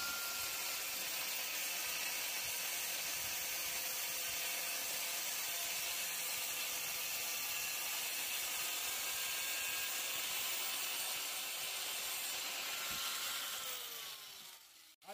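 Power tool steadily cutting a piece off metal stock while making a knife, a continuous close, fairly quiet whine and grind that holds for most of the span before winding down at the end.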